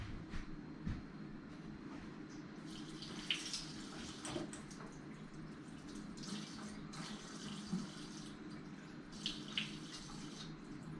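Water trickling from a tap into a tablespoon measure in a home kitchen, a soft continuous flow with faint splashes, quiet and close.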